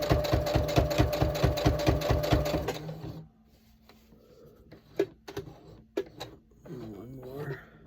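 A sewing machine running a narrow eighth-inch top stitch, loud and steady with a rapid needle rhythm for about three seconds, then stopping; scattered clicks and handling noises follow, with a voice speaking near the end.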